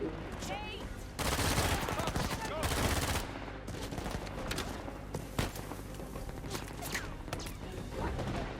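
Gunfire rattles in the Uncharted: Legacy of Thieves game on PS5, dense fusillades and bursts with louder volleys mixed among chaotic crashes and footsteps, heard close and continuous.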